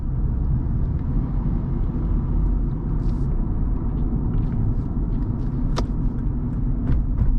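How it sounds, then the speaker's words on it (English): A 2012 Lexus IS250 AWD cruises along, heard from inside as a steady low road rumble and engine drone with light tire noise and a few small ticks, no talking. "We'll see how this car does on the highway."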